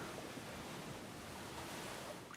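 Cartoon sea waves wash and surge in a steady, soft broadband roar with no talking, a continuous low-level swash of salt water.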